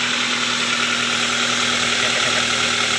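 A Daihatsu Xenia / Toyota Avanza engine idling close up, a steady mechanical hum with a fine rapid ticking from the valve lifters in the cylinder head.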